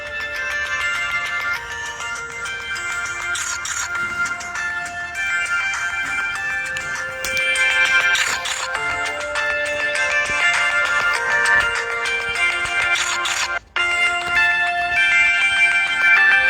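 An incoming call sets a mobile phone ringing, its bright repeating melody looping continuously and loudly for the whole stretch with no speech over it, only a brief dropout near the end.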